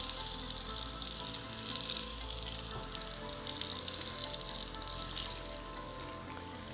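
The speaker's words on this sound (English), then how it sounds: "lean forward please, gently again rinse off the foam." Running water rinses foam from a freshly transplanted beard, a steady broadband hiss and splash that holds close and even throughout with no voices.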